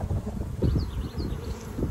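Honeybees buzz densely around an opened hive during a honey harvest, a close, constant hum with individual bees whining past the microphone.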